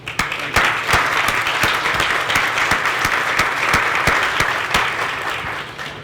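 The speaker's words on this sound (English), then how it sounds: "I want to again give a round of applause to Bill" A crowd at a healthy-living center's grand opening breaks into applause for Bill, a dense, loud burst of clapping that holds steady for several seconds before tapering slightly.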